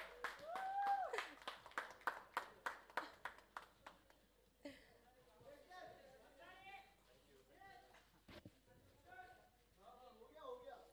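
Press-conference audience claps for Shah Rukh Khan at the 63rd Filmfare Awards, a dense burst of many hands for about four seconds, then fading into a hall murmur with someone speaking over it.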